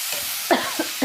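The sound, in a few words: tomato and onion pieces cooking in a pan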